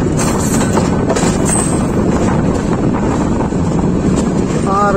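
The Mahanagar Provati Express, a Dhaka to Chattogram train hauled by locomotive 2603, runs toward Airport railway station, heard as a loud, steady rumble mixed with rushing wind noise throughout, with no talking.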